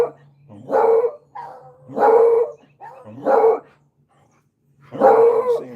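A neighbor's dog barks outdoors with four loud, separate barks at a fairly even pace, with short quiet gaps and a low hum between them.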